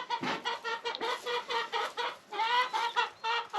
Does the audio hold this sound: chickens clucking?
yes